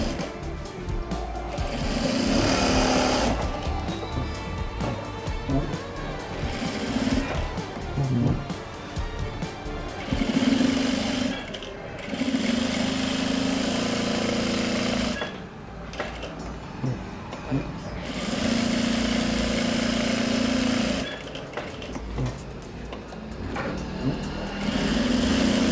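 A sewing machine stitches a double-piped back pocket in repeated bursts of a fast, buzzing whir lasting several seconds each, separated by short pauses, with someone speaking between and over the runs.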